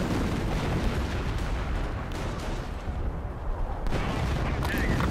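Heavy artillery fire and rumbling explosions in the World War II strategy game Company of Heroes: Opposing Fronts, dense booming blasts rolling continuously with a sharper impact near the end.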